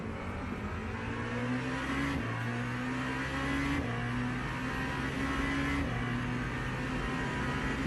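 A Porsche hypercar in Le Mans Ultimate drones steadily down a straight, its engine note climbing through the gears with brief dips at each upshift, loud and continuous throughout.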